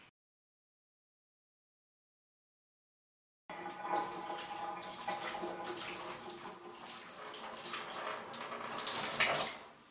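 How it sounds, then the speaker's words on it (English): Running water rinsing conditioner out of hair extensions: silence at first, then a steady splashing stream that starts suddenly and continues at close range. "I'll rinse it out."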